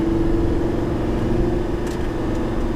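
A Lamborghini engine hums steadily from inside the cabin after a rev-matched downshift, a constant loud droning tone with road rumble underneath and no talking.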